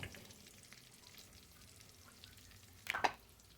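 Nigella seeds dropped into hot cooking oil make a faint low frying hiss, then a short sharp crackling burst near the end, quiet and without talk.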